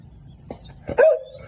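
Pit bull dog on a leash on a city street gives a short whine and yip, a close, brief vocal burst after a couple of soft thumps, no talking.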